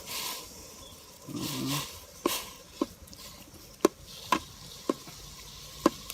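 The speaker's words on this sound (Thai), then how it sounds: "เอา เนื้อปลาลงหมอเลยครับ พี่น้อง ลงหลวกเลย" Fish meat for a Thai larb of snakehead fish stirred and knocked in a cooking pot, a quiet scraping stir followed by a series of sharp, spaced clacks of the utensil against the pot.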